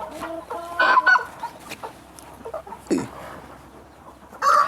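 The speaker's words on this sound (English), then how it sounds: "So we're inside our chicken coop, and this is where we put our laying stock." Chickens cluck inside a coop housing laying hens, a few loud close bursts of clucking breaking through quieter stretches, with a brief louder flurry near the end.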